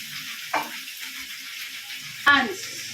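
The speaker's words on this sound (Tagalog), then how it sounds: "I'm cooking now a pork stick" A pork steak fries in a pan with a constant close sizzle and hiss, broken by two brief louder spits or clatters, and a voice can be heard speaking over it.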